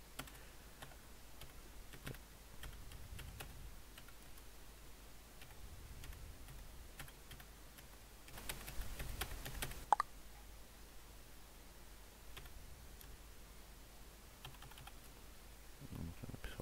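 An annotation is typed on a computer keyboard, with soft, faint, irregular key clicks in a quiet room and a slightly louder burst of keystrokes near the middle.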